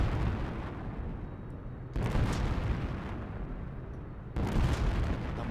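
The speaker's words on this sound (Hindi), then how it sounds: "धमाके, गर्जना, गूंज।" Loud, roaring explosions at an Indian Army Day demonstration. A continuous rumbling blast opens the sound, then two more sudden booms hit at about two seconds and again near four and a half seconds, each rolling out into a long echoing roar.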